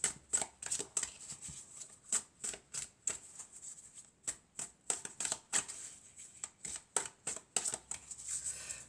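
Oracle cards are shuffled by hand, giving a quick, uneven run of crisp riffling flicks and slaps, close and fairly quiet with no talk.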